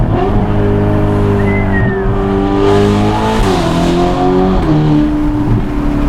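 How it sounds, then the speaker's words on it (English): A 704hp Ferrari Roma Spider with a loud, throaty Novitec exhaust drones steadily up close, its pitch rising and shifting as the revs change. "in the Ferrari Roma Spider. Oh, with a Novitec exhaust system and quite a bit more power."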